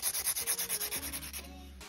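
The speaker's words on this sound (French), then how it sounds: "On voit qu'il y a encore un creux, donc je vais repasser un coup de lime." A nail file rubbing over a gel nail extension, about a dozen quick, even back-and-forth strokes close up that then slow and fade into a quiet scrape.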